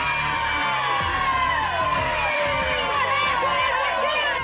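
A lively crowd of sports fans, family and friends cheers and whoops at Navegantão stadium during a festive team gathering, a steady dense roar of many voices with shouts rising throughout.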